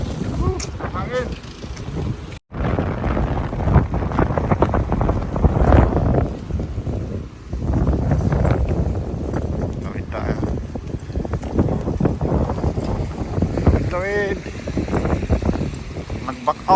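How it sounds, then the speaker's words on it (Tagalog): Strong wind buffets the microphone in loud, continuous gusts, with a person's voice occasionally heard under the roar. "Hangin."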